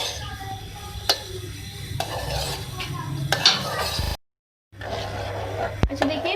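Semolina sheera with cardamom powder is stirred in a pan, a spoon scraping and clinking against the metal with soft sizzling, in irregular close strokes and a brief silent gap.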